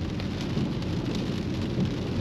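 Rain falls steadily on a BMW E90 driving a wet road in traffic among trucks, giving a dense, even hiss and splash over a low road rumble with no talk.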